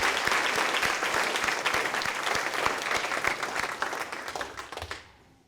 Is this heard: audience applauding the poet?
yes